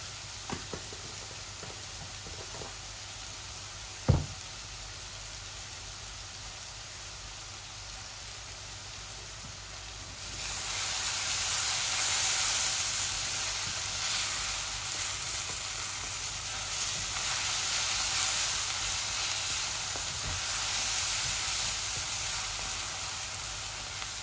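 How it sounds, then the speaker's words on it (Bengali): Tilapia fillet frying in oil in a pan on a gas stove: a soft, steady sizzle that swells louder halfway through and stays close and continuous, with one sharp tap early on. "মাছের গ্যাসটা আমি অফ করে ফেলেছি, হয়ে গেছে আমার মাছ ভাজিটা"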